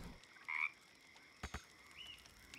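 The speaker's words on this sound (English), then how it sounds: "Can I talk to that frog down there?" Frog croaking in the fantasy game Baldur's Gate 3, two short separate croaks a little apart over quiet game ambience, with a faint tone later on.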